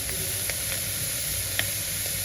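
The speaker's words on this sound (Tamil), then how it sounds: "அதுக்கு வெங்காயம் பச்சை மிளகாயும் போட்டுக்கிறேன், அப்படியே தக்காளியும் போட்டுக்கிறேன்." Onion, green chilli and tomato sizzle steadily in a pan for spinach kuzhambu, a close continuous hiss broken by a few faint scraping stirs.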